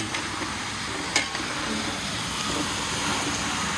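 Stir-frying in a pan at home, a steady broad sizzle running throughout with a single sharp clink of the utensil against the pan near the start, moderately loud and close, no talking.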